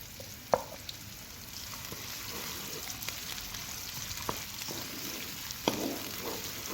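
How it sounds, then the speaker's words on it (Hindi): Onions fry in about a cup of hot ghee in a kadai, a continuous close sizzle with a few sharper crackles and stirring scrapes, and no voices. "ये कढ़ाई में मैंने जो है घी को अच्छी तरह से गर्म कर लिया है। अब मैं इसमें प्याज डाल दूंगी।"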